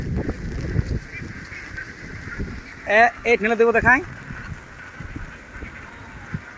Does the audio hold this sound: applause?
no